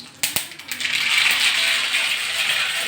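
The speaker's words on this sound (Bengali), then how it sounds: "তেল গরম হয়ে গেছে, আমি 1 চামচ কালো সর্ষে ফোড়ন দিচ্ছি" Black mustard seeds tempering in hot oil, a few sharp pops at first giving way to a steady close sizzle and crackle for a few seconds.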